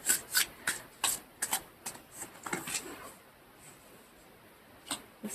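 A tarot deck is shuffled by hand, with a run of sharp, close riffling card bursts in quick succession that thin out into quieter scattered rustles and one last flick near the end.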